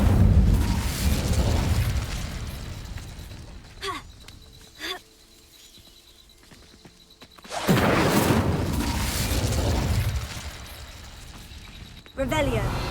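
Spell-casting bursts from the Incendio fire charm in Hogwarts Legacy, a roaring fiery whoosh with booming pops that swells, cuts to near silence with brief sharp cracks, then surges again loudly.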